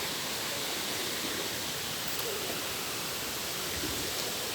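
Steady broadband rush of clear river water flowing at a crossing, continuous and even throughout with no talk.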